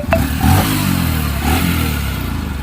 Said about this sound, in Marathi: सो गाइस पहले तो मैं आपको मेरी बाइक दिखाता हूँ.